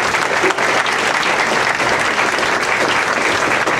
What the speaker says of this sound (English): If you can join me in a round of applause.